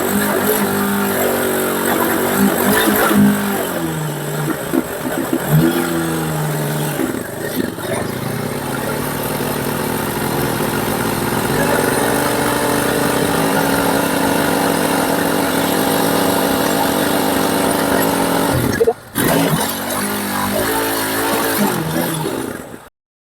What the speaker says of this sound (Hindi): इसको हम लोग थोड़ी देर रेविंग करेंगे, रेस करके देखेंगे